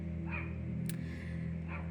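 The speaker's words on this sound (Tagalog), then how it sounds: "Masyadong giddy yung mga aso sa kapitbahay namin." A few short, distant barks from excitable neighbouring dogs come through at intervals, faint over a constant low indoor hum with a brief sharp click between them.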